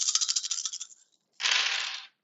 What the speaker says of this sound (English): At the start of escape, you're going to roll all of the dice.